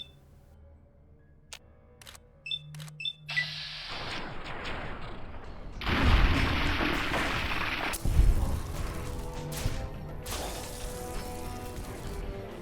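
Gunfire at ghouls in Fallout New Vegas: a few sharp clicks and shots open the clip, then a dense roar of weapon fire and booms swells in bursts, loud and close, with no talking.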